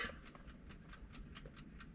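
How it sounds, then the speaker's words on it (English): The rebuilt dashboard clock of a restored 1957 Chevy Bel Air with a turquoise and white dash ticks faintly and steadily, several quick ticks a second, close by in a quiet cabin. "You can hear it ticking there."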